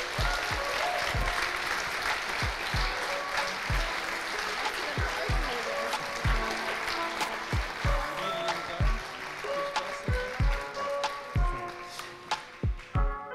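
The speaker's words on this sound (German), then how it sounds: "Als nächstes bitten wir auf die Bühne mit einem Applaus Lisa Hoing" Applause from an audience at an evening ideas event on an innovation campus, dense clapping that thins into scattered individual claps near the end, with some voices under it.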